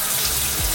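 Tap water runs steadily over a vintage snapback hat being rinsed in a sink, a loud continuous splashing gush with no voices.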